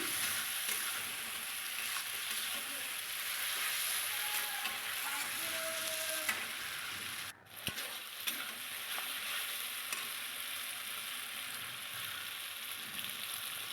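Fried potatoes sputter and hiss steadily in a pan of hot oil, with a brief thud and occasional small clinks partway through; no speech.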